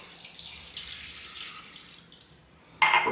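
Water is poured from a glass into a pot of beef curry, a quiet watery hiss building up before a sudden loud splashing gush at the very end.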